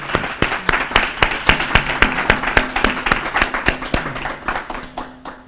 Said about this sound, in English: ask that we receive her with a round of applause